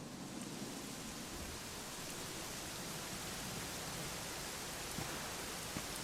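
Rain falling in the Dragon Quest XI video game, a steady, faint hiss of downpour that stays even throughout with no voices.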